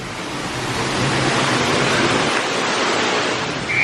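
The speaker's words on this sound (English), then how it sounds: "you get to come through this cave and see the cool waterfall on the way back out" Steady broadband rush of a cave waterfall at Knott's Berry Farm theme park, a continuous loud roar of falling water with no speech.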